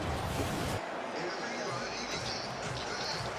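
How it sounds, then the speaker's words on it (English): A stadium crowd at Dodger Stadium keeps buzzing after a home run in an NLCS playoff game, Brewers against Dodgers. A steady, wide roar of many voices fills the space, loud at first, then easing slightly but staying dense throughout. "This crowd is still buzzing here at Dodger Stadium"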